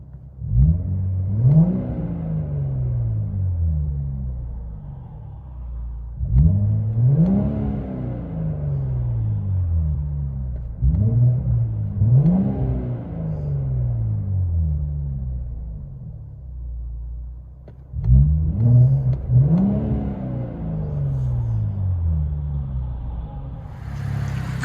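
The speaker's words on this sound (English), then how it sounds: "Infiniti Q60 2018 twin turbo, straight pipes, all-wheel drive too." A straight-piped 2018 Infiniti Q60 3.0L twin-turbo coupe with all-wheel drive, heard from inside the cabin, drones at a deep idle. Repeated revs surge upward and fall back in rough, booming waves.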